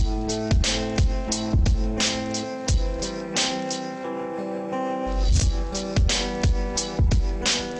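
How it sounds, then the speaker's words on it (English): A looped hip hop drum break with punchy kicks and snares over a sustained, tonal backing, repeating steadily at a moderate tempo with no voices. "I picked up a loop from there and I chucked it in."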